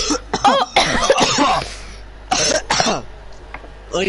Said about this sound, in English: Both of us had to cough there.